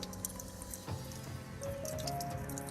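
Water trickles and drips from a drinking tap in a thin, steady stream as a hedgehog drinks, quiet and close, with faint background hum.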